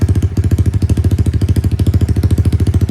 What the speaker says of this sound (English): Let's see what that Bills sounds like.